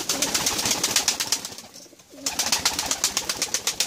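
Domestic pigeons on a rooftop coo nearby in repeated soft, rhythmic bursts, with a brief pause in the middle before the cooing resumes.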